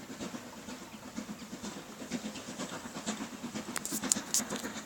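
A steam locomotive on a Norfolk railway rumbles and chuffs in a soft, rhythmic pulse from a short distance. The sound is faint and steady, with a few brief hissing bursts near the end.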